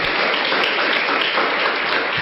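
Applause from an audience at a business seminar presentation: a dense, steady clatter of many hands clapping that fills the short stretch at an even, fairly loud level with no voices on top.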